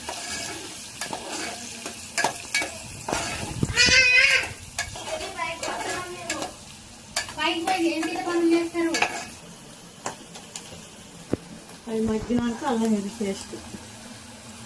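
Onion, green chillies and turmeric stirred in a pan, the spoon scraping and clinking repeatedly through a low sizzle, with a voice speaking over parts of it.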